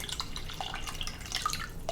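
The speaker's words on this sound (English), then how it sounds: "I'm filling water up to the 10-cup mark." Water pours into an Instant Pot for chicken rice congee, a close, continuous trickle with small dripping splashes and no talking.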